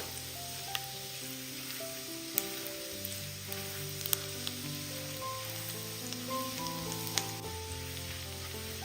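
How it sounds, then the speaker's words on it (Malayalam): Chopped garlic sizzles softly in a hot pan as it is stirred, a faint continuous frying hiss with occasional light scrapes, set beneath steady background music. "ഇനി വെളുത്തുള്ളിയുടെ ആ ഒരു പച്ചമണം മാറി കിട്ടുന്നവരെ ഒന്ന് ഇളക്കി കൊടുക്കാം."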